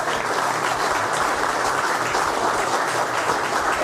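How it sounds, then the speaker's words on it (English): Steady, dense applause from a large audience at a car detailing class on flex polishers, loud and sustained throughout with no other sounds standing out. "how about a round of applause for Bob Eichelberg?"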